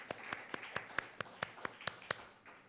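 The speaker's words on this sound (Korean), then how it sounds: "우리 축하 박수 보내주시겠습니다" Faint, slow, evenly spaced claps from a church congregation applauding birthdays, about a dozen distinct hand strikes in a steady rhythm with little else around them.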